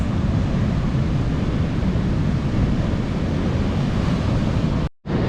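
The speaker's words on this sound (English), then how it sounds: "It's quite big waves." Big ocean waves crash continuously against a rocky coastline below a cliff, a dense, loud roar of surf with wind buffeting the microphone before a brief dropout.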